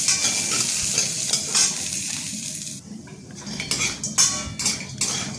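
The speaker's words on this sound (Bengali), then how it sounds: "এবার আমি বড়িগুলোকে নামিয়ে নেবো একটা পাত্রে" Fried lentil dumplings (bori) are scooped from a frying pan into a bowl, with a steady sizzle of oil broken by repeated scraping and clinks of a utensil against metal, close and fairly loud.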